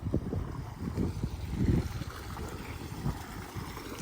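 Well-fed water rushes steadily along a farm irrigation channel on a village plot, a continuous close wash with gusts of wind buffeting the microphone and no talking.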